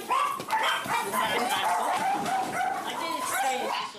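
Several shih tzu dogs at a breeding kennel yip and bark in quick overlapping bursts, close and loud, with whimpers mixed in and a person speaking among them.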